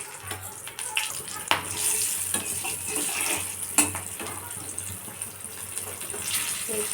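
A little water is poured into a pan of fish curry with fried fish, salt, turmeric and green chilies, giving a steady close splash and sizzle with a few clinks of utensils.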